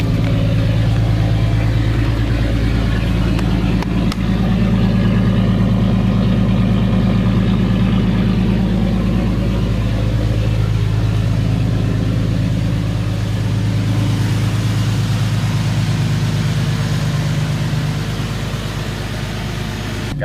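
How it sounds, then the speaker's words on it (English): A car engine idling high on a cold start, a steady, loud, close drone with a constant low hum that holds evenly throughout and eases slightly near the end. "The idle is a little bit high right now because, you know, it's a cold start"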